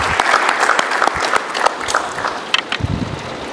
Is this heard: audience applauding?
yes